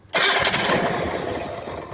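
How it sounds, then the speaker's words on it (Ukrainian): The cold engine of a Venturo ET10KX mini crane cranks and bursts into a loud, rough running sound that carries on steadily for the rest of the clip. "Значить, Запускаємо двигун"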